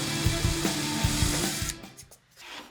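A power drill bores a nail hole through wood for a lazy Susan display, a steady close whir with rhythmic thumps, then cutting off and tapering as the bit stalls against a metal table beneath.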